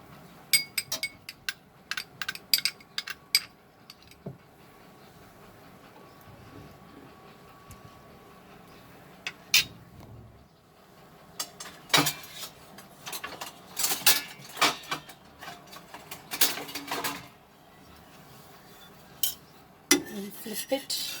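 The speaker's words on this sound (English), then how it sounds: "Just roughly apply the butter." A knife roughly spreads butter over bread for cheese toast, giving scattered scraping strokes and light clinks of metal on a plate, close up and alone, with bursts of brisk scraping in the middle.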